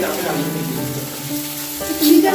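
Potatoes frying in oil in a home kitchen give a continuous close sizzle with faint crackles, swelling slightly louder near the end, while background tones and a faint voice-like murmur sit underneath.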